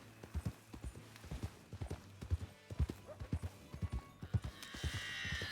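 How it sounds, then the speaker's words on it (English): Hooves clip-clop steadily on a hard surface as a horse walks in the Western role-play game RedM, a regular close rhythm of paired hoofbeats running throughout, with a faint high hiss rising near the end. "Oh, it's a horse."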